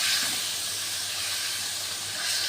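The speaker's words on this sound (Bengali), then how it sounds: "চুলায় কড়াই বসিয়ে তেল দিয়ে পেঁয়াজ রসুন কাঁচা ঝাল বাটা দিয়ে দিয়েছি।" Onion, garlic and green chili paste frying in oil in a wok on a stove, giving a steady, loud broadband sizzle and hiss with no break and no voices.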